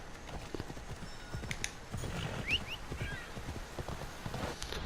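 A horse's hooves clop steadily in the video game Assassin's Creed Odyssey, a faint, quick rhythmic patter sitting under a soft game ambience.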